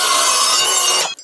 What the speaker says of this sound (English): I'm going to cut myself roughly 600mm piece.